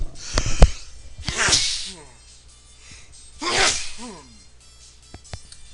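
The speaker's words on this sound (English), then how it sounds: "Oh yeah, there's a couple good sneezes." Two sharp sneezes in the video game Ys III, a couple of seconds apart, each a loud burst of breath followed by a brief voiced trailing sound, with some light clicks around them.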